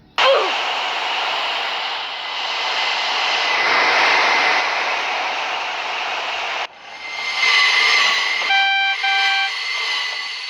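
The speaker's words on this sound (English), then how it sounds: "It was going at 125 miles per hour. And then the train doesn't slow down." A Roblox train on rails, simulated at 125 miles per hour, roars steadily past a red signal without slowing, a loud continuous engine drone that shifts abruptly near the end as horn-like tones sound in short bursts.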